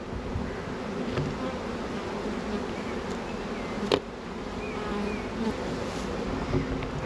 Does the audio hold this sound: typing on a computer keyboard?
no